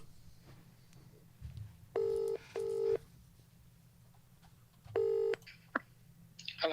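Telephone keypad tones sound in three short dialing beeps, clear and fairly loud, separated by pauses over a faint background hum, followed by a brief garbled noise at the end.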